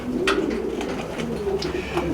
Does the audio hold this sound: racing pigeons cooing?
yes